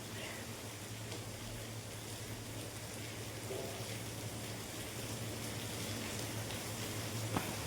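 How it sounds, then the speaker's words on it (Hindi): Rain falling outside a house, a steady, faint hiss of drops with a low hum beneath, constant throughout. "देखा, सुनाई दिया ना, ये बारिश की आवाज़ है।"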